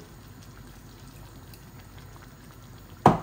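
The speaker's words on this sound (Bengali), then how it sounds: "ওই অল্প একটু পানি দিচ্ছি এই চিকেনের মধ্যে," Half a glass of water is poured into young chicken cooking in a pot, giving a short, sharp splash and sizzle at the end after a quiet, low simmer.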